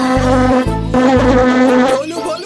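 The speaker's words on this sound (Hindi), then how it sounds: "जरा मेरी नाक के ऊपर से मच्छर उड़ा दो" Cartoon mosquito buzzing in a Chhota Bheem episode, a loud, close, continuous whine that pulses in short segments over background music.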